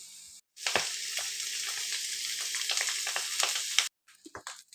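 Two eggs poured into a hot pan for egg fried rice with capsicum and onion hiss into a loud, steady sizzle that runs for a few seconds, then cuts off abruptly, followed by faint clinks.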